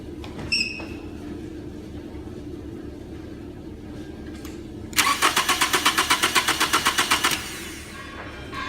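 A car engine cranks with a rapid, even chug for over two seconds, then catches and settles into a low idle, heard fairly close.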